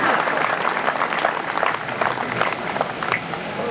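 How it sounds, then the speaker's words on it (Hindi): An audience at a Holi poetry gathering in Faridabad breaks into applause: brisk, dense clapping that stays strong and even, with scattered voices and laughter mixed in under the claps. "पूरा सदन अपने आप मिलकर तालियां बजाएगा"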